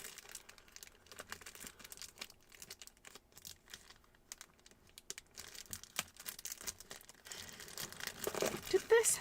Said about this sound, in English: I'm just going through some of my scrapbooking paper